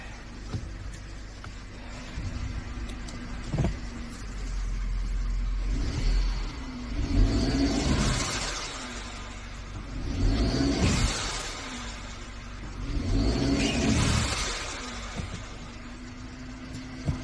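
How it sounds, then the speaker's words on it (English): An idling 2013 Mercedes-Benz C250 engine with a misfire fault, power braked under load, surges in three repeated revs with a rough, rumbling roar, dropping back to a steady idle between each. "right now I am power braking it to give it some sort of engine load."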